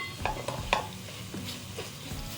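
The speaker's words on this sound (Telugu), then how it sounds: "ఈ ధనియా పౌడర్ వేసుకున్న తర్వాత మరలా కొంచెం సేపు ఇలా కలిపేసుకోవాలి" Coriander powder being stirred into Andhra-style pumpkin stew in a pan, with a few sharp spoon clinks against the metal over a soft, low sizzle, fairly quiet and without talk.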